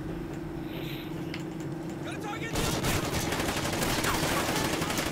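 Rapid gunfire from the Call of Duty video game, a steady burst of automatic shots that starts midway and keeps going at a consistent loudness, with faint game sounds before it.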